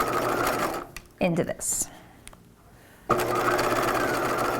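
Sewing machine stitching the back of a 1950s-style shelf-bust dress bodice towards the strap point, running loud and steady at the start, stopping while someone speaks briefly, then resuming at a continuous whir.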